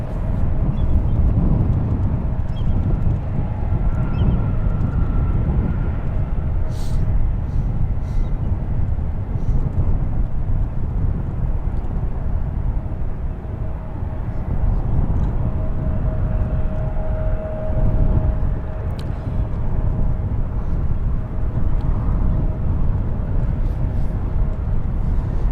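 A Lufthansa Boeing 747-8I in retro livery lands on runway 28 left at San Francisco International Airport, inbound from Frankfurt. A steady, broad jet roar holds fairly loud for the whole stretch, with a faint thin whine riding on top.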